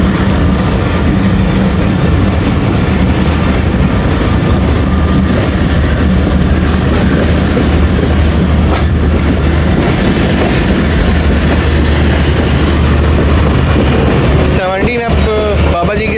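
The Karachi Express passenger train running on rails at Mehrabpur station, a loud, continuous rumble with rhythmic wheel clatter heard from close by, ending in a brief squeal near the end.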